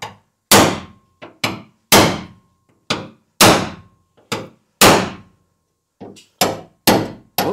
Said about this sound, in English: what I'll do is I'll get in with my chisel.